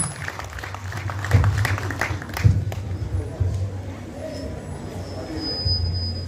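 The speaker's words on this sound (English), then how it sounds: "Let us give the man of God a very befitting hand clap" An audience at a national primary schools music festival claps for the Dean of the Cathedral of Bunyoro Kitara Diocese, a moderate round of applause that swells and fades over low background rumble, with some talking mixed in.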